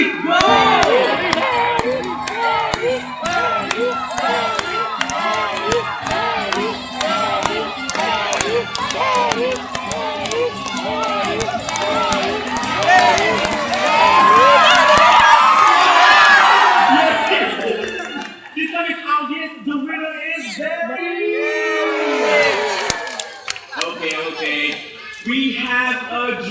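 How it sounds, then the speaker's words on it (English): A crowd at a Singapore bird show cheers and shouts loudly through a macaw race, with excited children's voices and a host talking over the din before it briefly drops and rises again. "this time, let's try cheering louder"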